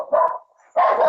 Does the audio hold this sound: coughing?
no